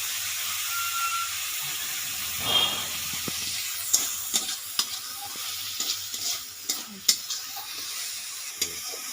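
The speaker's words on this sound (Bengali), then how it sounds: "এবারে মাছগুলো ভেজে নিচ্ছি।" Fish sizzle steadily in hot oil in a wok, with sharp scraping and clicking strokes from stirring scattered throughout, loud and close with no talking.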